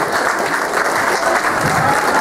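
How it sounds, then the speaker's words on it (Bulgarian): An audience bursts into dense, even applause for a performer named Miro at an awards-style evening, a loud unbroken roar of clapping from start to finish. "Аплодисменти за Миро!"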